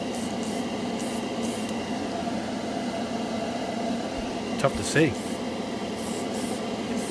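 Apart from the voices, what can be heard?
spray painting Model Master Metalizer paint on plastic panel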